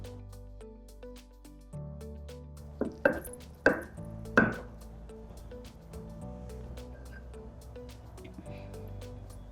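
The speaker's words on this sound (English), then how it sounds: "So now take these boneless pieces and just crush them slightly like this." Boneless mutton pieces crushed slightly in a kitchen, heard as three or four dull, thudding presses in quick succession over a quiet background hum with faint musical tones.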